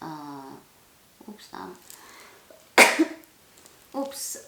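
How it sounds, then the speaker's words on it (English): A single sharp sneeze bursts out near the listener, preceded and followed by a person talking. "I just had to sneeze there."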